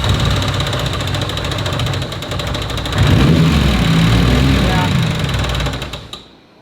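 Mitsubishi Evo 8 engine running on a dyno with a noisy rocker arm, a loud, sustained engine drone that rises partway through, carrying a fine, rapid ticking before it winds down and stops.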